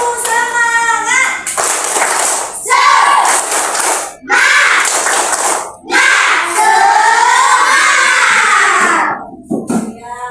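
Classroom of students performs a rhythmic clap-and-shout chant in unison, loud and close, in bursts of clapping and group shouting separated by brief pauses, with a teacher's voice leading at the start.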